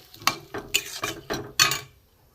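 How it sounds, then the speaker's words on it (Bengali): A spoon stirs fennel pointed gourd curry in a pan in five or six distinct scraping strokes with faint clinks, the bursts separated by quieter gaps over a light sizzle. "একটু নেড়ে দেবো।"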